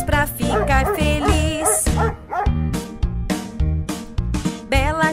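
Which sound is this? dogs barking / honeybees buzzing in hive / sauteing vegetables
dogs barking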